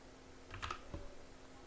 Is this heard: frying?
no